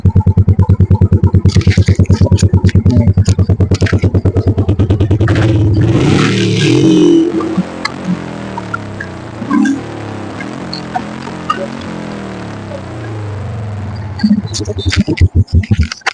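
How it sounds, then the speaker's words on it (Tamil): A modified Royal Enfield Classic 350 motorcycle thumps loudly and close for about seven seconds with a rapid, steady exhaust pulse, then drops away and leaves quieter scraping and clatter. "பக்கா செக் பண்ணிடுவோம் சவுண்ட் எக்ஸாஸ்ட் நோட் கேட்போம்."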